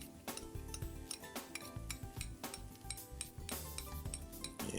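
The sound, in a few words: garlic added to pan with herbs, cooking tomato soup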